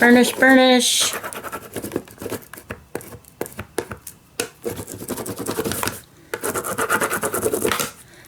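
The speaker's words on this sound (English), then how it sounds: "Now we're going to burnish." Burnishing an Altoid tin, a dry rubbing and scraping of a tool across the metal lid in quick, uneven strokes, fairly close, with a person talking over parts of it.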